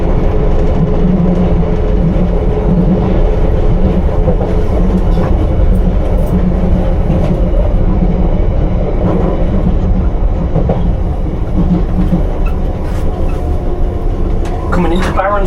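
A London Underground Piccadilly Line train runs at night between Cockfosters and Acton, heard from the rear car as a loud, continuous rumble with low hum, wheel clatter and squeals, and occasional voices in the background.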